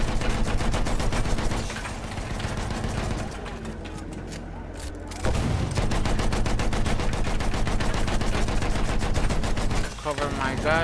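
Sustained automatic gunfire bursts in a Battlefield video game, with rapid repeated shots that pause briefly midway and then resume loudly, along with game voices.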